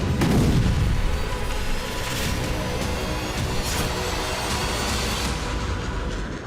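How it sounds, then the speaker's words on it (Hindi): A deep bomb blast opens an overnight airstrike on Gaza, followed by a heavy, continuous rumbling roar that stays loud throughout, with no voices. "रात भर विस्फोट से गाजा की जमीन कांपती रही"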